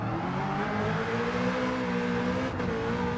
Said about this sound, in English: I want to throw down with the racing exhaust and then just shut up and just let you guys listen to it.